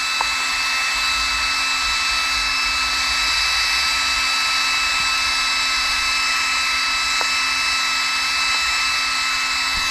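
A 1/5 scale electric RC off-road car motor runs at full throttle, a loud, steady high-pitched whine with a constant electric tone, continuous and close for the whole span with no talk.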